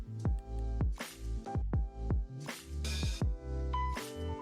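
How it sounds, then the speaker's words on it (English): Boiled potatoes being mashed for potato nuggets, giving repeated soft wet squishing presses in an uneven rhythm, close and fairly quiet with no talking. "you wanna peel, boil, and mash 2 medium sized potatoes"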